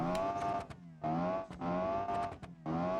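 A high-revving car engine in the BeamNG driving game climbs to 12,000 RPM in repeated rising whines, each rev swelling and cutting off about every second, fairly faint.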